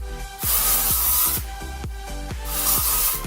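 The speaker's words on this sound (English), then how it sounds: "So I'm just going to kind of spray this all over." Volumizing hairspray hisses onto hair in two strong aerosol bursts, the first about a second long and the second shorter, close and loud, with quieter clicks and rustling between sprays.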